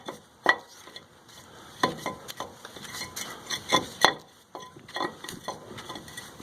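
A truck wheel hub bearing and brake rotor on a Tacoma solid axle swap are turned by hand, giving scattered metallic clicks, scrapes and light ticking knocks at close range, irregular and without speech.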